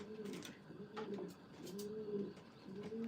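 Several pigeons coo repeatedly in a breeder's loft housing three to four hundred birds, their low rolling calls steady and close, with light background noise throughout.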